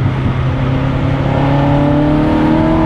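Ferrari engine pulling away at low revs, a loud, close, smooth growl whose pitch climbs steadily as the car gathers speed.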